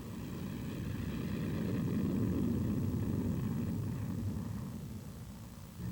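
A B-1B bomber roars past at very low altitude, a loud, steady broadband engine rumble that swells toward the middle and eases slightly at the end, with no voices.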